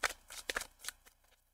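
Tarot cards are shuffled by hand in a few quick riffling bursts, close and fairly soft, with quieter flicks trailing off toward the end.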